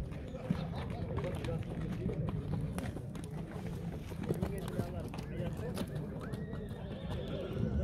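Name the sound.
horse neighing at a livestock market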